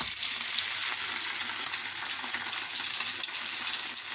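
Egg-coated bread frying in a pan for French toast, giving a loud, steady, close-up sizzle with no talking over it.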